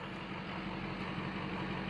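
A truck engine idles smoothly at close range, a steady low rumble with an even, continuous drone and no revving or voices.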